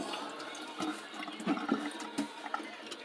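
Running water pours into a sink while items are rinsed of dirt, a steady splashing stream with intermittent clunks and knocks of objects being handled, close and fairly quiet with no talking.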